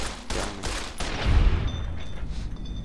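Gunfire in Fallout New Vegas, a quick burst of several sharp shots early on followed by a heavy thud and fading game ambience.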